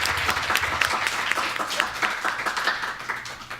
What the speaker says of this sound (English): I think we should give another round of applause to these very accomplished projects that we just heard